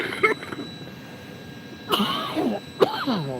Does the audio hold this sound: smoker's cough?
yes